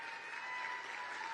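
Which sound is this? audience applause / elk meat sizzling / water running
audience applause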